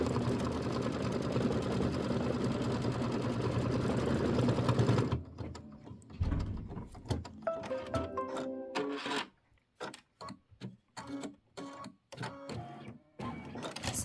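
Sewing machine running a satin stitch on a large chenille pineapple quilt block, a steady loud mechanical whir for about five seconds, then stopping into scattered clicks, rustles and handling sounds.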